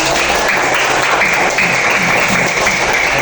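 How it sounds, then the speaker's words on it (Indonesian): A classroom of students applauds a classmate with loud, dense, continuous clapping that fills the room. "Tepuk tangan dulu untuk Bintang."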